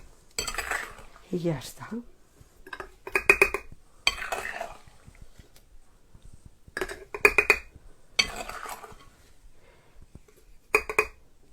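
Fruit being cut and ingredients added for a Christmas ferment, with bursts of clinking utensils, dishes and glass in irregular clusters, close by, separated by quiet pauses and a brief spoken phrase.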